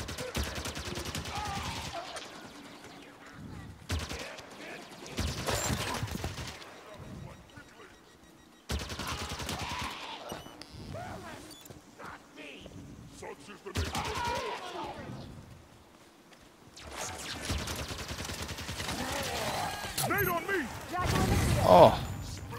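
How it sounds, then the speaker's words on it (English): Repeated bursts of gunfire aimed at the player in Halo 5, loud rattling volleys alternating with brief lulls, mixed with in-game voices and chatter over the shooting. "someone's still shooting me"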